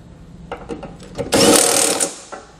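A tool drives and tightens bumper-beam bolts during a Curt trailer hitch install on a 2015 Subaru Outback wagon: a few short clicking bursts, then a loud sustained whirring run of about a second, and a last brief click.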